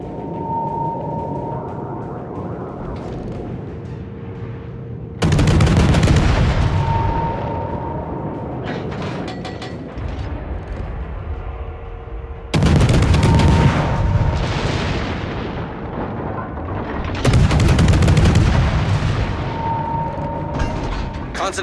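Warship guns fire in World of Warships, heavy booming salvos landing at intervals of several seconds, each with a long rumbling decay. Steady engine and sea ambience plus brief game tones sit between the shots.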